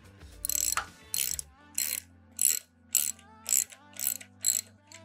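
A ratchet fitted with a 13 millimeter socket clicks in eight evenly spaced bursts, each a quick metallic ratcheting stroke, close and distinct while hex caps on a reverse-osmosis membrane housing are tightened.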